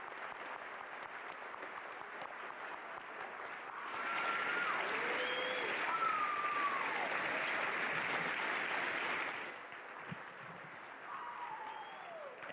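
An audience at a high school war and remembrance program applauds veterans, a sustained burst of clapping rising abruptly and holding for about five seconds before dropping back, with faint birdlike whistling tones scattered through.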